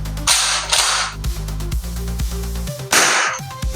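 Golden Eagle 8876 gel ball pump-action shotgun firing indoors: a few loud sharp bursts with the clack of the pump being racked between shots, close to the microphone.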